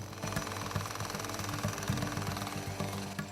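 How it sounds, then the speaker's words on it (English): Pneumatic air hammers break up concrete paving during demolition over a covered stream, a dense, continuous rapid rattling and pounding with steady machine drone, loud and close, no voices. "Once air hammers open the way"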